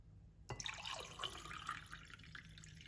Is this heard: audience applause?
no